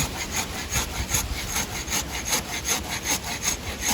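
A hand saw rasps through the wood of a fallen tree in a steady back-and-forth rhythm, each stroke close and loud, about two strokes per second.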